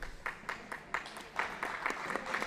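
Spectators in the stands at a handball match applaud in a thin, steady patter of claps that builds a little toward the end, heard fairly distantly over a quiet hall.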